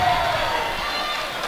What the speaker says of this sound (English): which really excites the crowd